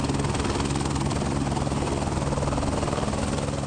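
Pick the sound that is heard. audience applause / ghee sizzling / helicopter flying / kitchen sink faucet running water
helicopter flying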